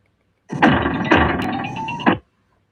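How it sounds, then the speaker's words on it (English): A phone rings inside a car: one loud, continuous buzzing ring lasting under two seconds, with a sharper accent at its start and end, then silence. "I can hear a phone ringing there."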